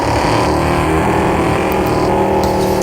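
Race cars in a racing video game rev their engines while spinning celebratory donuts at turn 2 of the Australian Grand Prix, a loud continuous whining engine drone close by.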